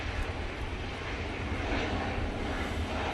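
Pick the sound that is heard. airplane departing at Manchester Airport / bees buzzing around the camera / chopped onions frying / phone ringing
airplane departing at Manchester Airport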